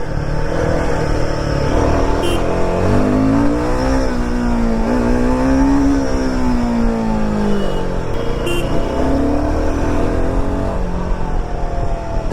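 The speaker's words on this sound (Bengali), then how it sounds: "সাউন্ডটা শুনতে পাচ্ছ, হিমালয়ানের সাউন্ডটা কিন্তু বেশ সুন্দর" Royal Enfield Himalayan 450 adventure motorcycle ridden through town streets, its engine note steady and close, rising and falling with throttle changes in a continuous rumbling hum without any talk.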